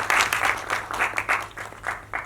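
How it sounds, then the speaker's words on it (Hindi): Applause and clapping from an audience welcoming producers onto the stage at a Hindi film trailer launch, steady rippling claps with brief swells over about two seconds. "जरा जोरदार ताली हो जाए प्लीज।"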